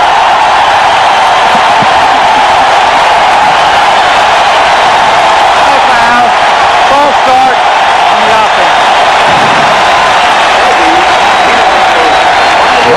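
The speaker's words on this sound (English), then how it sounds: "And listen to the crowd" A packed stadium crowd roars at an LSU football game in Baton Rouge against Texas A&M in 1992, a loud, sustained wash of cheering and whoops that swells in the middle, with a commentator talking over it.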